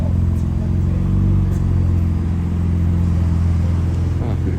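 A McLaren sports car's engine rumbles close by on a Beverly Hills street in Los Angeles, a steady low drone that holds throughout with little change in level.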